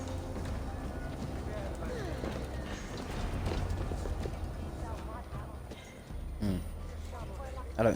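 Horse hooves clip-clop at a steady riding pace in Assassin's Creed Valhalla, sitting under a game music bed, with someone talking over them and a brief neigh or bump near the end.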